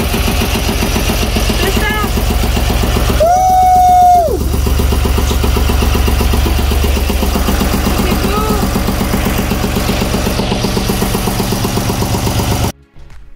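The freshly renovated inboard engine of a sailboat runs at a steady idle, giving a continuous loud, even mechanical drone that cuts off abruptly at the end.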